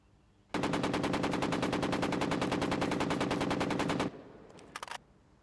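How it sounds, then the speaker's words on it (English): An AK-47 fires one sustained, loud, rapid automatic burst of about three and a half seconds, followed by a few faint clicks. "Next is everyone's favorite gun, or maybe not everyone, I think, the AK-47"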